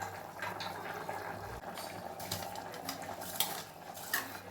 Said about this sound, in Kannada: ಇವಾಗ ಅಕ್ಕಿನ ಸೇರಿಸ್ಕೊತಾ ಇದ್ದೀನಿ.